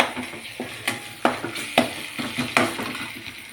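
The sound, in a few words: ginger garlic paste frying in a pan on full gas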